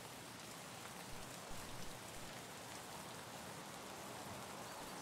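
Steady, dense rainfall hissing evenly throughout, a constant wash of drops with no pauses and no voices, in the video game Escape from Tarkov.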